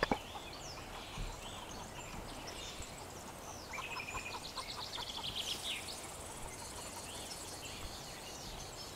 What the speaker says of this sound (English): There's chickens all over here, too.